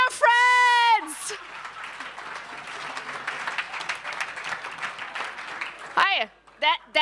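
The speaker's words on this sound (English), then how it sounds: "Big round of applause for keeping your friends" Sustained applause from a pitch-event audience fills most of the stretch, steady and dense, with a brief spoken voice at the start and short vocal bursts near the end.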